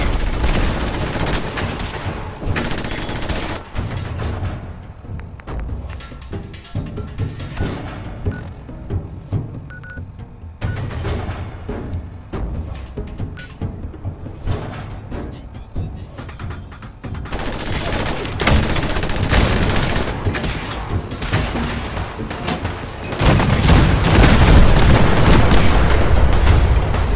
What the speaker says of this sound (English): The cannons are ready. Fire at will. Keep firing, soldier.